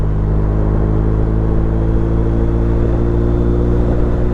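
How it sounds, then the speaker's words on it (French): A BMW R 1250 RT motorcycle accelerating as the throttle is reopened after braking in traffic, a loud steady engine drone with strong low rumble and wind, close and continuous with no talking. "Et là, on reprend les gaz."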